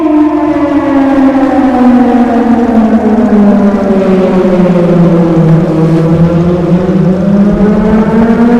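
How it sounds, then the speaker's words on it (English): A loud, wailing air-raid style siren from a video game drones steadily, its pitch slowly sinking and then rising again, with no voices. "I heard this siren from my apartment in Bright City every once in a while"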